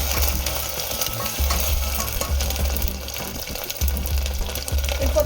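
Ginger garlic paste frying in a pan gives a steady, loud sizzle, with a low rumbling hum underneath and occasional scraping stirs, continuous with no talking.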